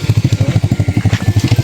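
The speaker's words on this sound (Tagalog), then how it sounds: "Tingnan nyo po yung motor na dadaan." A motorcycle on a slightly uphill rural road, carrying a sack, thumps past with a rapid, even engine pulse, loud and close.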